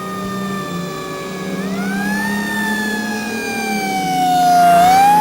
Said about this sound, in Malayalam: സാർ, ആംബുലൻസ് എത്തി.